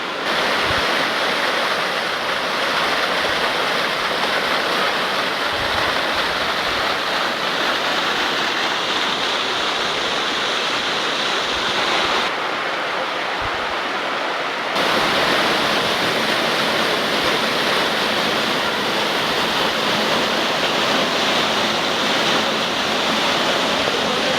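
Grotto Falls pours down into a deep plunge pool on a mountain hiking trail, a steady, loud, broadband roar of falling water that fills the whole clip close up, with no voices over it.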